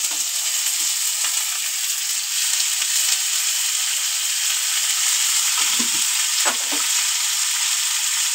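Potatoes and carrots fry in hot oil seasoned with black cumin seeds, giving a steady, bright sizzle with a few louder crackles and stirring bursts near the end.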